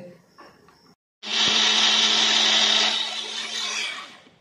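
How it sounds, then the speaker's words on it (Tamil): A mixer grinder blending strawberries and sugar into a paste whirs loudly and steadily for several seconds after a brief pause, with a strong high-pitched motor drone. "ஸ்ட்ராபெரியும் ஜீனியும் நல்லா பேஸ்ட் போல் நல்லா அரைச்சிக்கலாம்."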